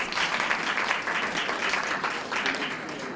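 An audience at a live talk on cultivating phalaenopsis orchids gives a steady, dense round of applause that holds at an even level for a few seconds.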